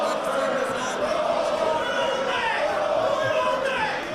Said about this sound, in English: why this sold-out crowd in New York City is chanting Goldberg